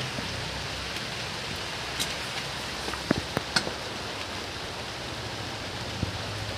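Steady rain patters down outdoors over an open-air cooking spot where black cumin, green chilli, turmeric and mustard paste go into a pot under an umbrella, a soft continuous hiss with a few sharp drips.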